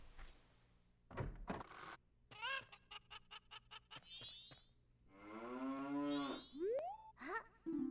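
Cartoonish mooing from cattle in The Legend of Zelda: Majora's Mask at Romani Ranch, mixed with bouncy synthetic boings and thunks, several short bursts in a playful, game-like sequence.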